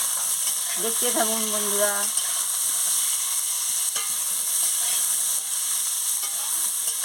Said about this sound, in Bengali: অল্প নুন দিয়ে আমি ভেজে নিচ্ছি পটলটাকে।